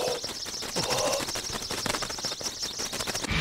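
Rapid, dense flapping of bird wings fanning a fire, a continuous fluttering whoosh that stays loud and close across the whole moment, with no voices over it.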